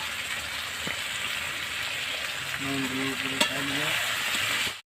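Spiced chicken masala fries steadily in a pan as whole garlic cloves go in, a continuous close sizzle with a few soft stirring scrapes and a brief clink partway through, no voices.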